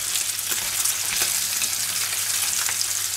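Sausages fry steadily in a pan with a loud, continuous sizzle and crackle. Occasional pops and light stirring noises come through, and no one speaks.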